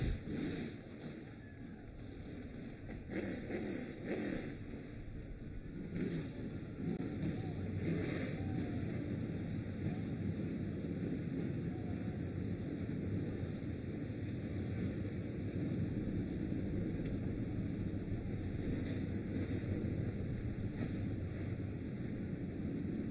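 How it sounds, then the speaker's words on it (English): Stock race cars rumble at Madera Speedway as engines fire up before an ARCA Menards Series West race. A steady, dense low roar holds throughout with faint crowd and announcer noise behind it. "engines roar to life"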